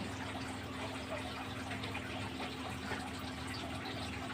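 A 40-watt pond pump spouts water into a pond, giving a steady, even gush and splash throughout with a low constant hum underneath, no voices.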